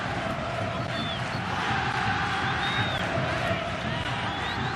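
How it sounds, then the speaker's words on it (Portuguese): Vasco fans roar steadily at São Januário stadium during a 2016 Campeonato Carioca football match against Madureira, a dense, continuous crowd din with faint whistles rising above it. "Torcida do Vasco aumenta o volume agora em São Januário"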